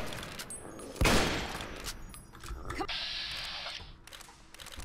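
Gunfire in Fallout New Vegas, one loud close gunshot followed by a decaying echo, then mechanical reloading clicks and a steady hum under quieter game ambience.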